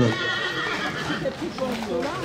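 A Cob horse whinnies at a horse breed presentation at a country fair, its call rising and falling over steady crowd chatter and a public-address voice throughout.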